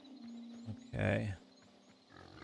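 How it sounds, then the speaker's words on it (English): Pigs grunt in one short, loud burst at close range, framed by quieter stretches of low murmuring and background noise. "What do we got over here? Pigs."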